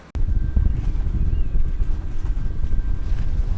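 Strong wind buffets a sailboat at sea off the wild side of Ibiza, a steady loud low roar of gusts and water rushing past the hull, with no voices.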